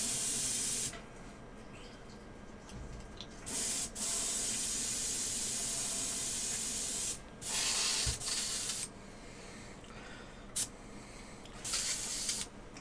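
An airbrush sprays in long steady hissing bursts, close and fairly loud, broken by brief pauses and short stops and restarts, with no talk.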